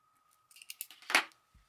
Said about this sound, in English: Let me get my scissors here. Scissors, snipped it, perf.